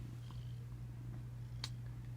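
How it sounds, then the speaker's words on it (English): A cat seeking to be petted purrs steadily and close up, a low continuous rumble with a faint rustle partway through. "Here I got aggressive cats trying to get petted right now."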